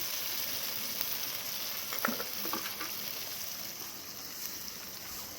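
Onion, tomato and grated ginger fry in a pan with a soft, steady sizzle, and a few quiet stirring scrapes come through about halfway.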